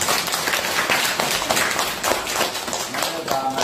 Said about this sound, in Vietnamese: Công nhận vỗ tay.